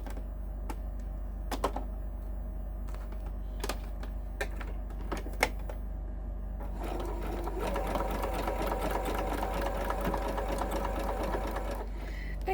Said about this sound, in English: I've just stitched along that line of holes on the flower.